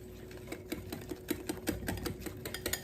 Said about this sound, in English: you whisk it up, make sure you get all the lumps out